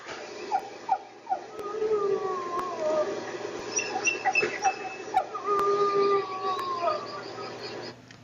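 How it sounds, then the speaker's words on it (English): High, wavering wolf whimpers and whines in Yellowstone National Park, several in a row, with a longer drawn-out whine midway, fairly close over a soft background hum. "Here's a whimper."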